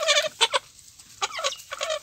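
Kadaknath chickens on a farm give loud, close clucks in short bursts separated by brief pauses, with no other sound competing.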